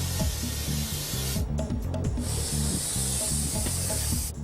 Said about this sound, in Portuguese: Encher 12 balões meteorológicos com gás hélio é um processo demorado.